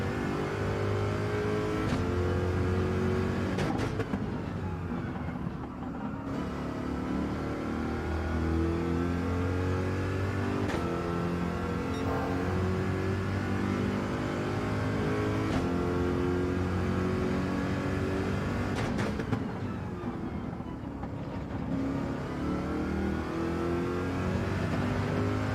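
A Corvette race car engine in Gran Turismo 7 revs continuously, rising and dropping with gear shifts over a long stretch of steady, close engine roar with no talking.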